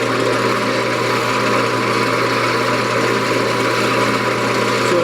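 A wood lathe spins a spalted pecan vase during friction polishing, giving a loud, steady motor hum and whir that runs unbroken throughout.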